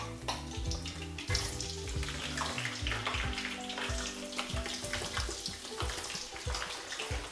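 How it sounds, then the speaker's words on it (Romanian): Potatoes fry in a home kitchen pan for a homemade hamburger meal, a steady, dense sizzle running the whole time with some low background hum and no talking. "Ok, voi pune cartofii la prăjit."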